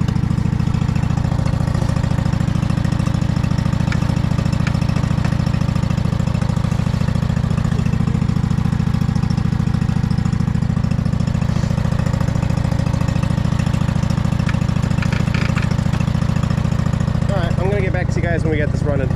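A lawn mower engine runs and idles steadily, loud and close, with a constant low drone throughout and a brief burst of higher whine near the end.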